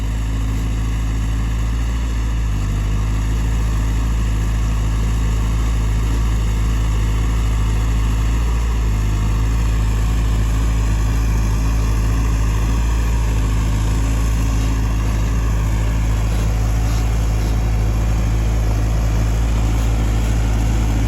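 A Cat 320D2 GC excavator's diesel engine runs loud and steady with a deep rumble and low hum, clearing forest land, rising slightly as the throttle is blipped.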